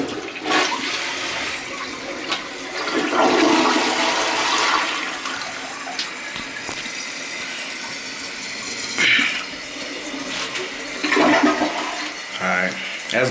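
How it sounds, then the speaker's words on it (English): A household toilet flushes after a repair, a loud rushing gush of water that swells and recedes, followed by refilling and splashing surges, close up with no one talking over it. "Toilet flush, let's try it one more time"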